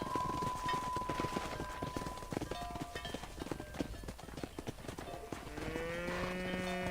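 Hooves clop busily as a herd of cattle moves in the game Red Dead Redemption, with a few low moos rising near the end over a faint tonal background.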